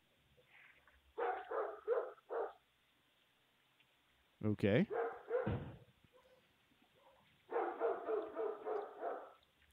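Dog barking heard through a doorbell camera at a home where a package was being delivered, several short bursts of barks in three separate clusters, moderately loud, with a person speaking briefly.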